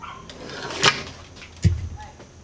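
A drawer on a Husky 56-inch tool chest closes, with a sharp metallic clack and then a duller thud up close, and a voice speaking around it.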